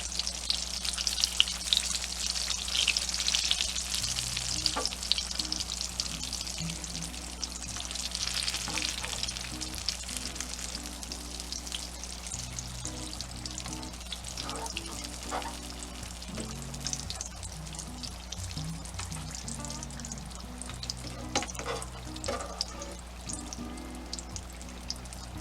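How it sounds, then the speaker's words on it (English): Green tomatoes fry in hot grease with a steady, close crackling sizzle that runs the whole time, with occasional stirring or clinking noises and no talking. "You can hear that lovely sizzle, that sizzle of the grease."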